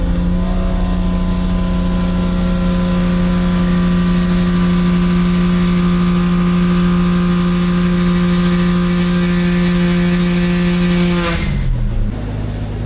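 Toyota JZX90 engine held at a steady high rev on a dyno, a loud continuous drone with strong steady tones for about eleven seconds before the revs drop away at the end.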